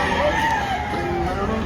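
A Sweater Kelso rooster, eight months old, crows once up close, a single drawn-out call that rises and falls against a busy outdoor market background.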